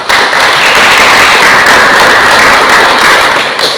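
A classroom of students breaks into applause for a classmate in a vocational engineering lesson, a loud, close, dense patter of clapping that stays steady throughout.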